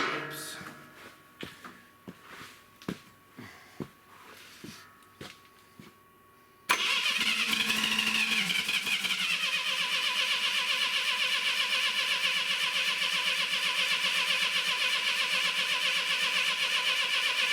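A Clark forklift engine cranks in a series of uneven starter pulses, then fires and catches, settling into a loud, steady running drone for the rest of the time.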